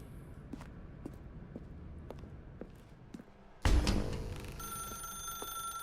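A telephone rings in the video game The Stanley Parable: soft, evenly spaced footsteps lead up to a sudden loud, bright ring that keeps sounding steadily near the listener, with no talking over it.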